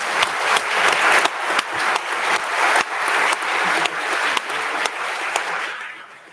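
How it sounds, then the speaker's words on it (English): Sustained applause from an audience in a legislative chamber during a youth leadership session, steady dense clapping that holds for several seconds before tapering off at the end. "we're going to give them all a round of applause"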